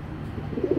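Pet pigeons in a breeder's loft give a brief, soft, low coo toward the end of a short, quiet moment.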